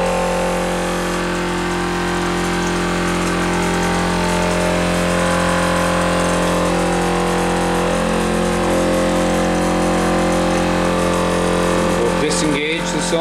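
A Ford Model A engine runs steadily and loudly up to speed, a dense continuous mechanical drone with an even hum held throughout, ending in a brief clattering disturbance near the end.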